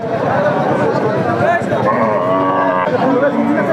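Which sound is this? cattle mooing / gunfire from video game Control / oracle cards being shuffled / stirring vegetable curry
cattle mooing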